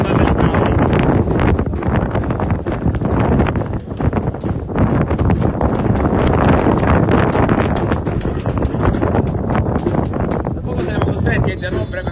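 Strong, cold wind roars across a microphone at an outdoor football match, a continuous buffeting rush with gusty crackles, with a commentator's voice partly buried beneath it.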